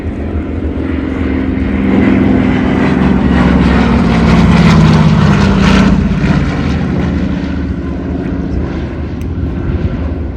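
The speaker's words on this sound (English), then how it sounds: "Here's the C-47." A WWII-era C-47 propeller transport drones loudly at an air museum's WWII weekend airshow in Reading, PA. Its engines produce a steady, heavy roar with a throbbing propeller beat that swells slightly midway and holds without any voices.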